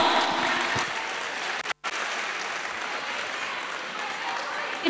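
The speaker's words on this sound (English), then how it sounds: "Give them a big round of applause." Audience at a kids' stage show applauding the children after a rhythmic performance; a sustained wash of clapping with a brief dropout midway, steady and full.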